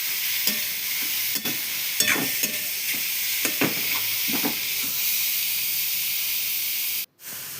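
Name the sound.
carrot malwa sautéing in a pan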